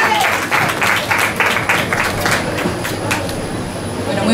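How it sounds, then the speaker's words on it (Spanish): Audience applause at a Victorio & Lucchino solidarity fashion collection presentation during the Feria de Sevilla, a steady, dense clapping that stays loud throughout with rhythmic bursts in the first half, some crowd noise mixed in. "por favor pido un aplauso"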